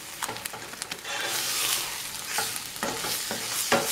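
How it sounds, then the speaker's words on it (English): Veggie protein cooks with sauces in a pan, giving a steady close sizzle broken by repeated scraping stirs and clacks from a utensil. "I added that, all the sauces into the veggie protein midway through cooking"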